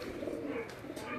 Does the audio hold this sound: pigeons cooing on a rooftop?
yes